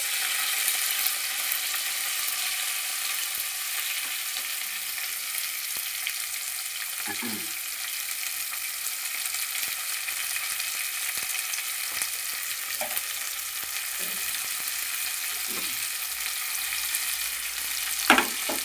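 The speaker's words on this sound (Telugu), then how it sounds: "ఆనియన్ వేసుకున్నామండి. ఇప్పుడు బాగా కలుపుకుందాం." Sliced onions fry in hot oil for a chicken curry, giving a steady broadband sizzle with occasional scraping stirs of a spoon against the pan, close and even throughout, with no speech.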